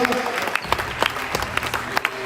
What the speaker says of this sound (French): On peut applaudir les deux équipes.